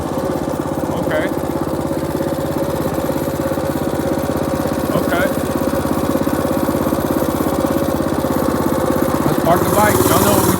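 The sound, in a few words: mini bike engine running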